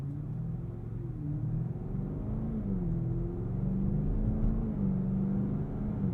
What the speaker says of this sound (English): V8, even in Comfort Plus, will make itself known